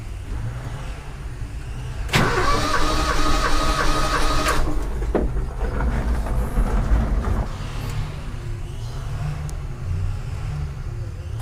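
A Toyota Kijang engine with a smoking, rough-running fault is revved hard at full throttle for about two seconds, a loud harmonic roar that drops back to a steady idle rumble, with faint voice in the background.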